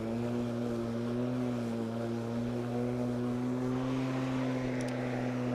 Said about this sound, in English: the mower just drives itself